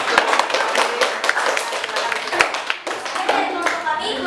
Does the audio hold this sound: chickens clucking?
no